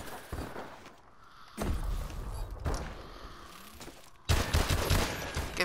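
Bursts of rapid gunfire from the game Call of Duty: Advanced Warfare come in several loud, dense volleys separated by brief quieter gaps, with thumps and footsteps mixed in.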